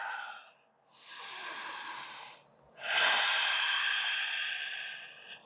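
Slow, deep breaths during a yoga vinyasa flow: a long airy inhale followed by a fuller exhale, close and breathy with no talking.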